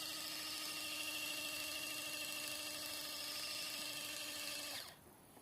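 A steady electric motor whine buzzes continuously for several seconds at low volume, then cuts off abruptly near the end: an electric M416-style water gun firing.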